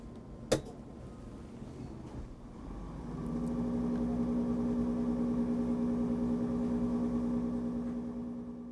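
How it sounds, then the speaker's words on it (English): A laboratory centrifuge spinning test tubes during ABO-Rh blood typing, starting with a click and then rising into a steady, continuous motor hum that holds at an even level without any talk. "Then you'll spin down the tubes in the centrifuge for 30 seconds."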